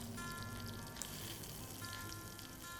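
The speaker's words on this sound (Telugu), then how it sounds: "ఉల్లిపాయలు, పచ్చిమిర్చి, వీటిని దీంట్లోకి యాడ్ చేసేసుకొని వేయించుకోవాలి" Onions and green chillies frying in oil in a pan, giving a steady, fairly faint crackling sizzle with a few soft pops throughout and no voices.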